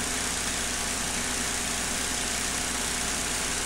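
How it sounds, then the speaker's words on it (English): A County Line 28 ton log splitter's small engine runs at a steady idle, a constant close-up mechanical drone with vibration and no talking. "now we are going to check overall splitter operation"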